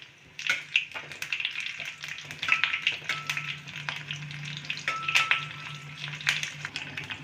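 Five slit green chillies sizzle and crackle in hot oil while tempering for dhokla, a steady close frying hiss with occasional stirring taps and pops and no talking.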